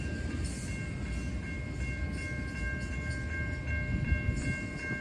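CN freight train M383 rolls through the Goddard Road railroad crossing in Wyandotte, Michigan, a continuous rumble of wheels and cars with a sustained crossing signal tone above it.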